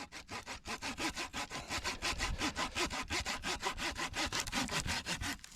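Wood being cut with a hand saw, steady back-and-forth strokes in a regular rhythm, close and clear with no talking.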